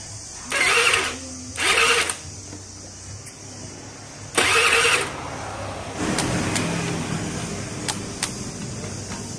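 A motorcycle engine fitted with a modified dual ignition system, with new CDI wiring, makes three short mechanical cranking bursts close by, then settles into a steady, lower running hum.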